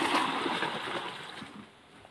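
Water poured into a container for soaking bundles of betel leaves out in a farm plot, a steady splashing gush that runs for about two seconds and eases off slightly toward the end.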